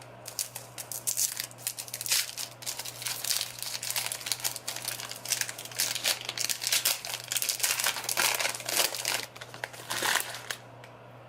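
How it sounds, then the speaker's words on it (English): Close, crinkly rustling and crackling comes from the wrapper being pulled off a bar of African black soap, in irregular bursts over a faint steady background hum. "So let's take off the wrapper."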